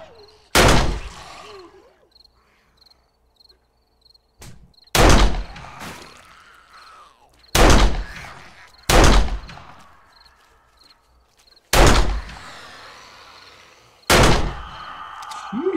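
Single gunshots in 7 Days to Die during a blood moon horde night, six loud, separate cracks spaced a couple of seconds apart, each trailing off, with quiet ambient hum and faint chirping between them.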